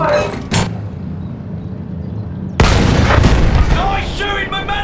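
Battlefield 1 gunfire in a wartime game battle: a sharp boom, then a sustained roar of shots and explosions with shouted voices layered over the din.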